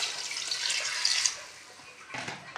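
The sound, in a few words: water poured into pot of fried meat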